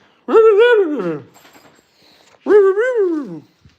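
A borzoi howls twice at close range, each long, loud, wavering howl rising and falling in pitch, separated by a short quiet pause with faint background noise.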